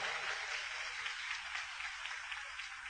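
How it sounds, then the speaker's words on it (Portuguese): A church congregation applauds with steady, even clapping that sounds distant and faint and holds without a break throughout. "Aplaudamos a palavra de Deus."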